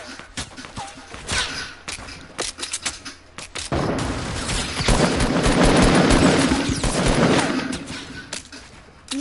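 Gunfire in a Fortnite match with a sniper shooting, scattered sharp shots at first and then a long dense rattle of firing that fades near the end.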